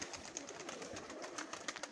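Homing pigeons in a Kherson loft coo softly, a faint, continuous murmur of calls sitting low under a steady hiss of background noise.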